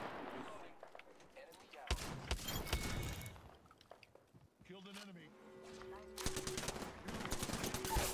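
Bursts of rapid gunfire from the video game Apex Legends, clattering volleys separated by short lulls and mixed with other game effects, fairly loud with players talking over parts of it.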